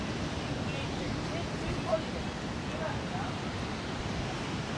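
Strong wind blows at Legian Double Six beach in Bali, a continuous broad roar buffeting the microphone, with surf rumbling underneath.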